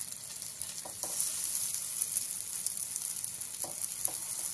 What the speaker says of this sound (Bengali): এভাবে বাকি পকেটগুলো আমি ভেজে নেব।